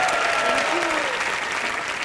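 Loud, sustained applause from a TV comedy show studio audience, continuous clapping filling the whole moment with no pauses.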